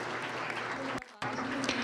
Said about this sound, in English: please give a big round of applause to our panelists